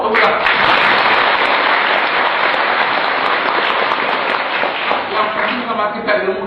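An audience claps loudly and continuously at a religious lecture, dense close applause filling the whole stretch and tapering slightly near the end, with voices faintly underneath.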